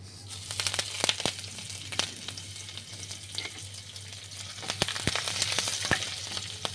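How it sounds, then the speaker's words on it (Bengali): Mustard seeds, chopped green chili, ginger and curry leaves sizzling in hot oil, a dense crackling fry with sharp spits and pops and a few stirring knocks, close and steady. "1 চা চামচ সর্ষে, দুটো কাঁচা লঙ্কা কুচোনো, একটুখানি 1/2 ইঞ্চি আদা কুচোনো আর 15-16টা কারি পাতা, এগুলো আমি এতে দিয়ে দিচ্ছি।"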